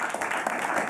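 Studio audience applause at a television talk show, a dense, even wash of clapping held at steady loudness for the whole second, with no clear break.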